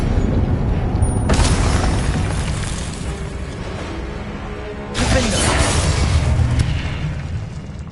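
A spell is cast in Hogwarts Legacy, bursting in two loud bright crackling blasts about three and a half seconds apart, each with a shimmering, shattering tail over a steady dense game background.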